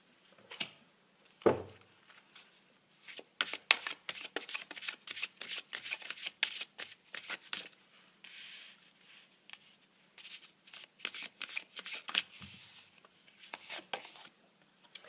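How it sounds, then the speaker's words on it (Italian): Oracle cards are shuffled and laid down by hand, a long run of quick, crisp riffling flicks and soft slaps in bursts. The sound is close and alone, with one dull thump early on and a short pause midway. "Mettiamoci un'altra carta qua sopra dei nostri Angelion."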